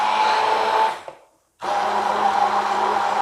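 A kitchen blender whirs steadily blending a lime-juice emulsion, cuts out briefly for a short pause, then roars back on in pulses, loud and close with no talking.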